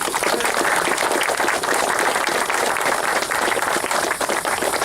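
A crowd at an outdoor opening-day anniversary celebration applauds for the mayor, dense sustained clapping that stays loud and even throughout.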